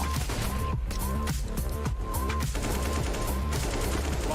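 Dense gunfire from the video game Counter-Strike in a professional esports match: rapid overlapping rifle bursts and shots pile up continuously over game music and effects, loud and busy throughout.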